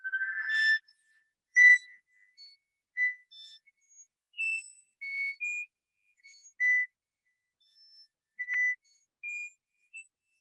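Overtone scale played on an instrument: a sequence of separate clear, whistle-like tones stepping between high pitches, each short and sustained, with gaps of silence between notes.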